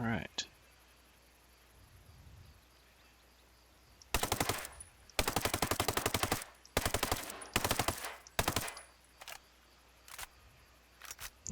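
An assault rifle fires in Ghost Recon Breakpoint in several loud, rapid automatic bursts of varying length with short pauses between them, and a voice talks quietly in the clip.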